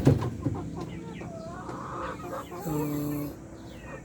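Native chickens crossbred with Rhode Island Reds cluck close by on a farm, giving several short calls and a longer drawn-out squawk, while someone speaks briefly at the start.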